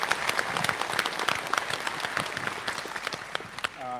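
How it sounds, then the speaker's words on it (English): Audience at a Dublin Comic Con convention panel bursts into dense, sustained applause, many hands clapping at once and fairly close, tapering slightly near the end. "You don't have to clap."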